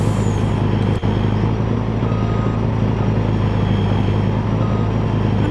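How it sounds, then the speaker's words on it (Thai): A fuel tanker truck engine in the video game Farming Simulator 19, a loud, steady, close rumbling drone with a constant low hum, alone without talk. "เสียงรถนี่ก็กระหึ่มซะเหลือเกินนะผม"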